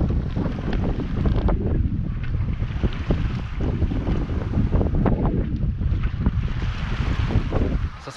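Sailboat at sea with a lone sailor aboard, steady rushing wind buffeting the microphone over constant splashing water against the hull, loud and continuous without speech.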